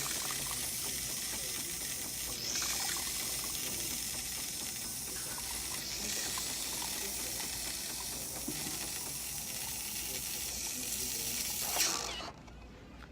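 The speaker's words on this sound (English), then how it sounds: "pouring the milk now." Milk poured from a Jura coffee machine into an espresso drink, a steady soft hiss and gurgle of liquid with faint mechanical clicks, ending abruptly near the close.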